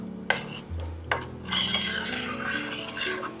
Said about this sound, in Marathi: आणि यातल्या ज्या गुठळ्या आहेत या अशा फोडायच्या